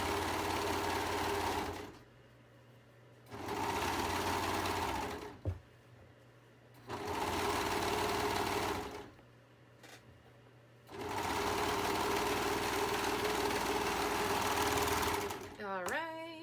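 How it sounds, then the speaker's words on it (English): A serger overlock sewing machine stitching the seams of an adult hoodie, running in several loud, steady bursts of rapid mechanical whirring separated by brief pauses, close by. "I love my serger"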